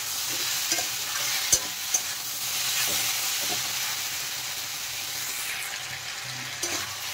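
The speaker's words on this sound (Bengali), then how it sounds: "এখন ভালো করে মিশিয়ে কষিয়ে নেব।" Ridge gourd with chopped tomato and salt sizzles steadily in a hot pan, with occasional louder scrapes and knocks of a spatula as it is stirred, close and continuous without talk.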